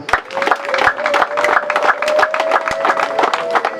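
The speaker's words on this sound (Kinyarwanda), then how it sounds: "Nimbo wampera amashyi mwa abagabo." A church congregation applauds at a wedding, with dense, continuous clapping from many hands and some crowd voices mixed in.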